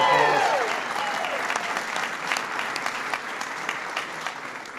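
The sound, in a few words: applause at reception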